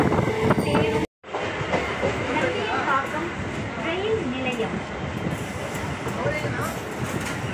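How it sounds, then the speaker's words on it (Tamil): A train at Athipattu Pudunagar railway station near Chennai, with steady rumbling wheels and rattling carriages, close and loud, while voices speak over the noise. "இதுதான் அத்திப்பட்டு புதுநகர் ஸ்டேஷன்"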